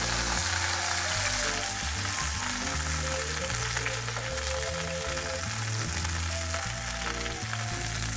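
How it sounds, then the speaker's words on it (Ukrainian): Beef steak searing in a dry pan with no oil, giving a loud, steady sizzle and crackle that runs without a break, with a low tonal hum underneath. "смажимо на сухій пательні, без нічого, по 3 хвилини з кожної сторони"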